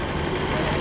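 A big Ford tractor's engine idles with a steady, low, rumbling drone, close by and unbroken over a brief moment.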